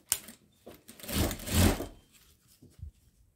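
A sewing machine topstitches around a patchwork rug made from fabric scraps, with short runs of stitching between softer knocks and handling noises, moderately close and fairly quiet.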